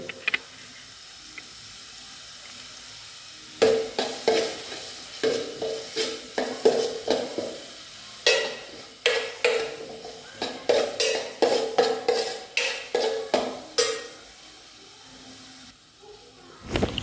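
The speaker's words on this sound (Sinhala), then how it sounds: "මෙන්න අපේ ටෙම්පරාදුව දැන් බාගෙට බැදීගෙන ඇවිල්ලා තියෙන්නේ" Tempering for salmon cutlets frying in a pan, a soft hiss under rapid clattering stir strokes of a spoon against the pan that come in bursts, with quieter stretches between.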